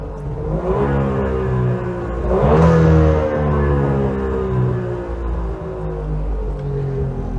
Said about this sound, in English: we shall fire the little engine up into life